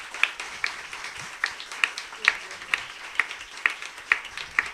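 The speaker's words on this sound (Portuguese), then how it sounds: "Aplaude, aplaude, aplaude." An audience claps in unison at a church talk, about ten sharp, evenly spaced claps roughly every half second, moderately loud over a faint room background, with no talking.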